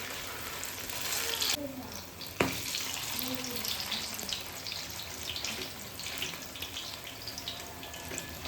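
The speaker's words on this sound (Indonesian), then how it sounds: "Terus lanjut di sini kita goreng pakai minyak yang banyak dan yang udah panas." Corn fritters deep-fry in plenty of hot oil over a medium-low flame, a steady close sizzle and crackle running throughout with one sharp clack partway through.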